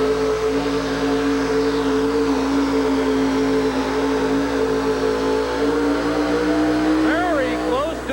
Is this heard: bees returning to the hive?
no